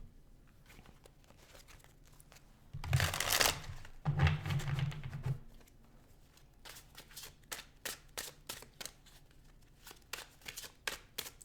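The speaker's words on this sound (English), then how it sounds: "as I'm shuffling" Tarot cards being shuffled up close, two longer riffling bursts followed by a quick run of soft, evenly spaced card slaps and flicks in a quiet room.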